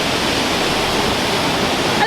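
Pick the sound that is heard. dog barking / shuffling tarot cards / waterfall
waterfall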